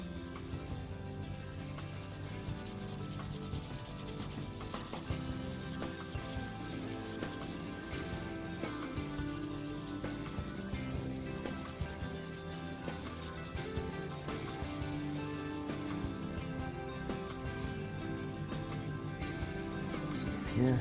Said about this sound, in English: Just sand that off, a little bit off of there.